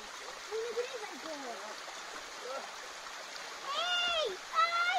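An autumn waterfall in the Karkonosze mountains near Karpacz rushes steadily in the background while people talk and call out nearby over the continuous flow.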